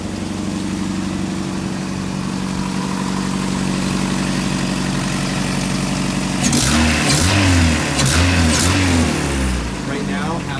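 1986 Toyota pickup engine with no muffler idles loudly with a rough, throbbing exhaust, then revs sharply several times in quick bursts.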